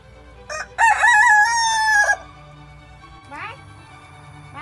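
A rooster crows loudly nearby in one long call, followed by quieter clucks and chirps over a low background hum.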